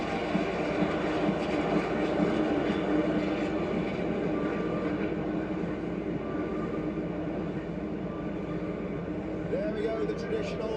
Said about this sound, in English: There we go, the traditional flyby.